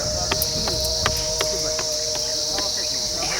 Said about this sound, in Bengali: যাচ্ছি ঝিঁঝি পোকার ডাক